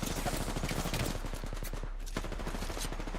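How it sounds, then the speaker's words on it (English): Rapid bursts of automatic gunfire crackle through an Apex Legends tournament match, dense overlapping shots hammering in quick rhythm over a constant loud game-sound bed, with no talk. "Just dodging all of that gunfire."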